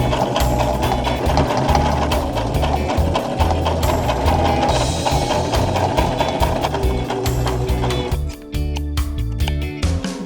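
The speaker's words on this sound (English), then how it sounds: "I'll just sew it down a little more here and then sew this down here a little more." A sewing machine stitches clothing during summer thrift-store alterations, running loud and steady with a rapid mechanical rhythm for most of the stretch, briefly easing near the end before resuming.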